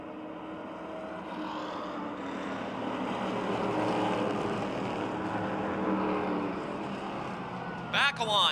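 Race cars roar around the Motordrome Speedway oval during a 20-lap feature in August 2007, a steady, loud engine drone from the pack with a sharper burst near the end, under continuous commentary.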